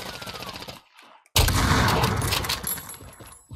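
Loud burst of automatic gunfire in Warzone's Mini Royale mode, a rapid crackling volley following a brief quiet pause, with faint game sounds before it.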